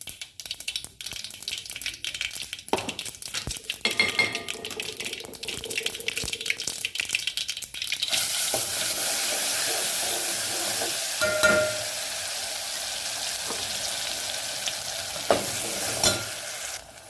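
Ground masala paste going into cauliflower curry frying in a pan over low heat, with stirring and scraping at first, then a steady, louder sizzle that fills the pan, punctuated by a few sharper clinks.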